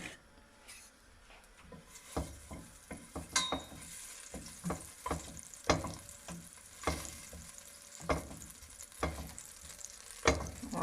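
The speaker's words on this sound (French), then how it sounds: "dans une casserole bien chaude, on va mettre notre beurre qu'on aura coupé en petits morceaux." Small cut pieces of butter sizzle and are stirred in a hot saucepan, a quiet crackling fry broken by scraping clicks of a utensil against the pan.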